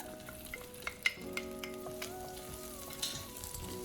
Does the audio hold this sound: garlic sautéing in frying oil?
yes